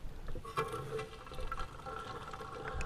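Water from a hose pours into the buckets of a homemade self-watering planter, a steady close splashing and trickling fill running continuously with no talk.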